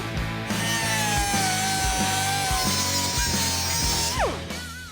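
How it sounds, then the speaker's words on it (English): A large cutoff wheel grinds steadily through a Buick Regal custom bumper, a continuous loud whining roar with a rattling low drone, the pitch sagging and then dropping off sharply near the end as the cut finishes. "We'll use our trusty big old cutoff wheel for the long cuts."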